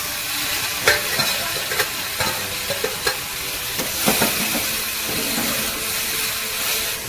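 Amaranth greens (chaulai saag) fry in roasted masala, giving a steady loud sizzle with repeated stirring clatters and scrapes, no voices.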